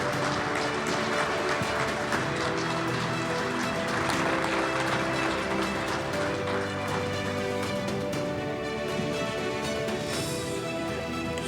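Sustained audience applause welcoming an inductee into the St. Louis Sports Hall of Fame, a steady dense wash of many hands clapping at even loudness throughout, with a musical backing underneath and no speech over it.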